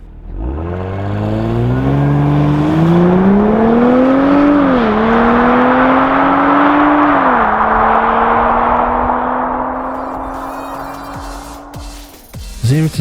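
Porsche Cayenne Coupe with a 3-litre V6 petrol engine on a launch-control start, revving hard and loud through rising gears with shift dips, then easing off near the end.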